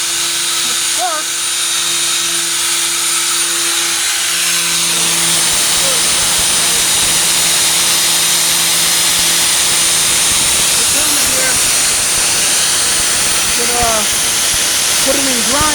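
A grinder works on the passenger-side wheel arch of a 1998 Ford Ranger during a rust repair. After a few seconds of lower humming, a loud, continuous, harsh hiss takes over and fills the rest of the stretch.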